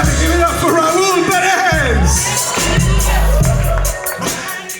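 A comedy club crowd at the Miami Improv cheers and whoops, with a loud voice talking and shouting over the noise and a muffled booming sound system underneath.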